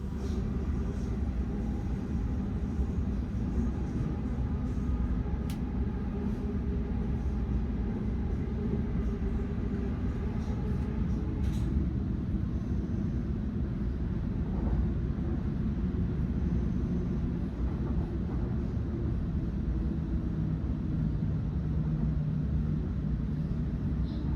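Steady low rumble and rolling hum from inside a moving Sydney train, continuous and even throughout with faint rattles and brief clicks, no voices.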